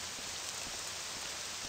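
Steady rain falls in the game Morrowind, a continuous hiss of drops at low level with no voices over it.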